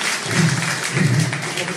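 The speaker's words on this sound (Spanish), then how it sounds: "Fuerte aplauso para ella, para Erika Pérez" Audience applause at a jazz festival concert, a brief, steady wash of clapping with a low murmur of tones underneath.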